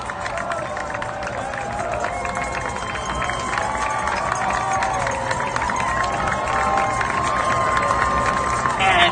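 Loud, steady crowd roar at a 2021 MIAA Division I state championship boys' soccer match between Brookline High and Newton North, after Brookline's 2-1 win, with music playing and voices shouting throughout.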